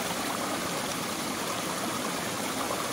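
A mountain stream in Alaska pours steadily into an MSR 10-liter water pack, a continuous close, hissing rush of flowing water with no talking.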